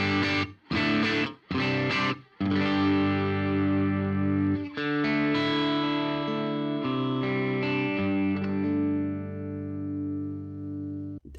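Electric guitar played through a 2-Rock tube amp with reverb and delay switched off, heard alone: a few short choppy strums, then sustained chords ringing out and slowly decaying, dry and fairly loud.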